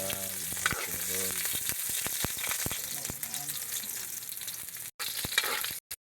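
Garlic fries in hot oil in a pan for seafood pancit canton, a loud, steady sizzle with occasional stirring scrapes close up.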